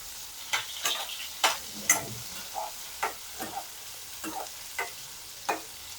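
Chopped onion frying in about two spoonfuls of oil in a pan, cooked only half-raw before grinding for a mutter paneer masala gravy; soft sizzle with a series of sharp stirring clicks and scrapes, close up, no talking.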